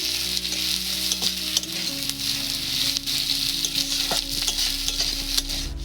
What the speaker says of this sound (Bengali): পেঁয়াজগুলো হয়ে গেছে, এর মধ্যে লঙ্কাটা দিয়ে দিচ্ছি